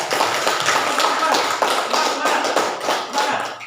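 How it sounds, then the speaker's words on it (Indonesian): A classroom of students clapping hands together on a teacher's cue, crisp overlapping claps in a quick, slightly uneven rhythm, fairly close, with some voices mixed in. "coba tepuk tangan dulu"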